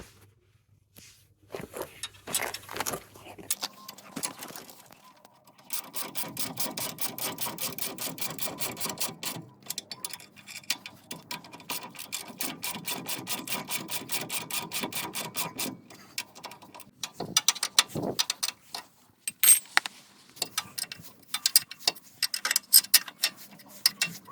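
Ratchet tightening ball joint bolts on a Renault Megane 3 suspension: close, rapid mechanical clicking in repeated bursts, with pauses and sharper taps between runs.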